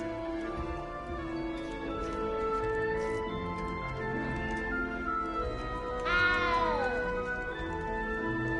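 A cat in a Hogwarts wizarding video game gives a clear, rising-and-falling meow near the end, over a steady bed of ambient game music and background sound.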